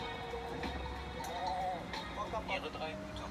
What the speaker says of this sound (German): Wie jeden Abend treiben sie ihre Schafe zur Lavogne, dem Wasserbecken unterhalb des Dorfes.